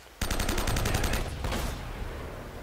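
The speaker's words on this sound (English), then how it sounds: "Shotgun." A shotgun fires in the Uncharted video game, a loud close blast followed by rapid repeated gunfire and a fading echoing tail.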